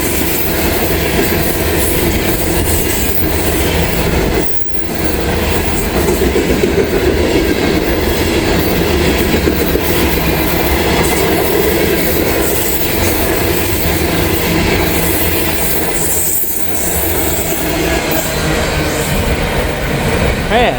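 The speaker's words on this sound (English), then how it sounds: "Big old heavy grain train. He was moving right along." A big, heavy grain freight train rushes past at speed, a loud, unbroken roar of wagons with rhythmic clickety-clack and high wheel squeal filling the whole stretch.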